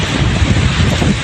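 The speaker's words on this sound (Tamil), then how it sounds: "சேலம், ஆத்தூர் சுற்று வட்டார பகுதிகளில் சூறாவளி காற்றுடன் கனமழை கொட்டியது" Strong gusting wind in a summer storm with heavy rain around Salem and Attur in Tamil Nadu, buffeting loudly in a dense, low roar with rough turbulence and no break.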